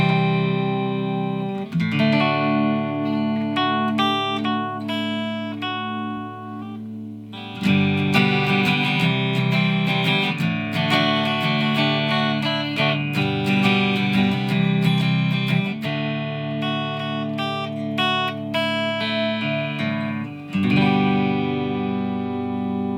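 Epiphone SG electric guitar played through both P90 pickups in the middle position, volumes at 5 and tones at 7, giving sustained chords and picked notes with a slightly overdriven, effects-coloured tone, loud and steady throughout.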